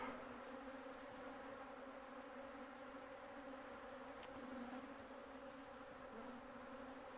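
Honeybees buzzing around a beehive in an apiary on a cloudy, sprinkling day, a steady dense drone of many insects heard continuously without any talking.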